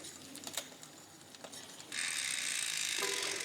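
An SRAM Transmission bicycle drivetrain turned by hand with the chain held taut, giving a dense, close run of fine ratcheting clicks that starts quietly and then swells into a steady, louder buzz of rapid ticking.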